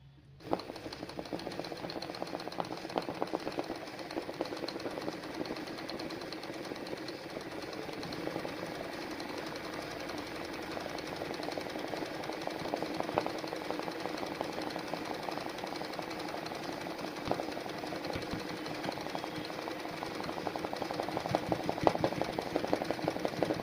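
An embroidery sewing machine sews a running stitch with a steady, continuous mechanical whir and rapid needle clatter. It keeps going for the whole span at a moderate, even level, with no voices.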